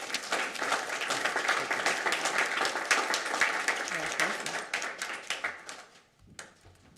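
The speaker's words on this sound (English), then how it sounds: "could we recognize and give them a round of applause, please?" An audience applauds at a school board of education meeting. The clapping is dense and steady for several seconds, then thins and tapers off into a few scattered claps before the room goes quiet.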